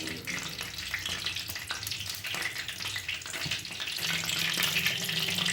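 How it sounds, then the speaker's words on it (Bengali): Chicken pakora pieces frying in hot oil, a steady dense sizzle and bubbling that swells slightly near the end, close up with no talking. "এই যে তেলের মধ্যে দিয়ে দিল।"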